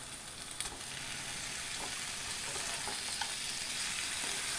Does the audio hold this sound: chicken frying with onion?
yes